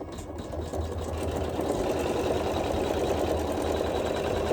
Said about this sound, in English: So let's sew our quilting.